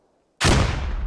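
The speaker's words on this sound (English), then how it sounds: "Oh, wow, that grenade." A grenade detonates in a military video game: one sudden, loud blast that fills the whole range at once, then a long roaring decay after near silence.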